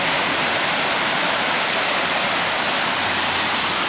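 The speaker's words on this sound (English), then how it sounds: "Some power in that water." Powerful rushing water near Smugglers Lane by a seawall, a loud, dense, continuous roar that fills the scene with no voices.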